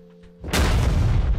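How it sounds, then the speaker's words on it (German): A sudden, heavy explosion in PUBG bursts in after a brief quiet hum, its deep booming roar filling the rest of the moment loudly. "Puh, die Explosion, ey."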